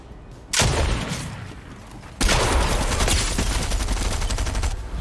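Gunfire in Fortnite erupts in two sudden onsets of rapid, dense shots, loud and close, the second burst continuing steadily to the end with no speech.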